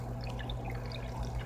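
Water splashes and trickles steadily onto a phone during a cauliflower ear treatment, a close, continuous wet spattering with faint drips and no talk.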